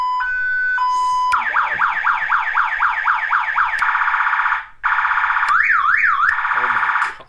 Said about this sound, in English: Then you go down to sirens.